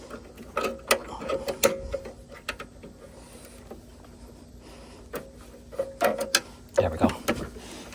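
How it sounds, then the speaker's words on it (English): Metal clicks and scraping as a small screwdriver pries a pulley off a snowblower engine, a Predator 212, in close, irregular bursts of taps and clunks separated by quiet pauses. "Get a little screwdriver. Get it around this pulley."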